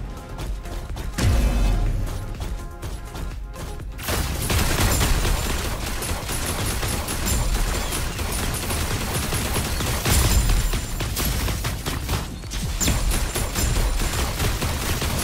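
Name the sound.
gunfire from the video game Super Mecha Champions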